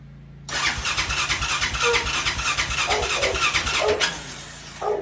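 A 2004 Honda Foreman 450 ATV, old and falling apart, cranks briefly and then catches, its engine roaring loud and steady and close up, with a rough, uneven idle as it settles.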